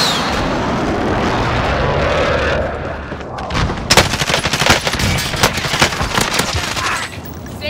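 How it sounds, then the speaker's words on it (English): A friendly precision airstrike in Call of Duty Warzone begins with a roaring aircraft rush, then heavy rapid gunfire and booming impacts hammer close by in dense bursts before tapering off. "Friendly precision airstrike inbound."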